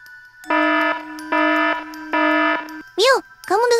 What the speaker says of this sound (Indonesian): Alarm CCTV berbunyi.